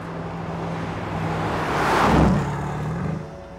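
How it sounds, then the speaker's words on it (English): A Mercedes-Benz SL63 AMG with a bi-turbo V8 roars under hard throttle, the engine note swelling to a loud peak and then easing back, with no talk over it. "you stomp down on the loud throttle, and wow, that bi-turbo really does roar"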